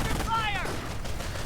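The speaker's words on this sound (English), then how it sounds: "Armor car moving up again, doing quite a bit of damage with its auto cannon." An armored car's auto cannon fires in a World War II strategy game amid battle, a dense rattle of gunfire shots under a busy mix, with a short whistling sweep passing briefly.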